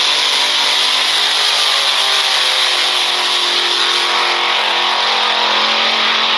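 Race car engine revving hard and loud throughout, a dense sustained high-pitched roar with no talk over it.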